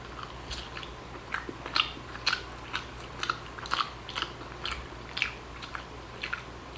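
Plain watermelon bitten and chewed up close, wet crunchy bites repeating in a steady rhythm, about a dozen in all, with no talking.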